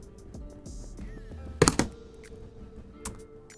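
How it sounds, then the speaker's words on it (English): A RAM stick pressed into a motherboard slot on an AM5 gaming PC build: small plastic clicks and taps, then a sharp double snap as the module seats, followed by a lighter click, close and fairly quiet. "RAM installation. Sounds like this."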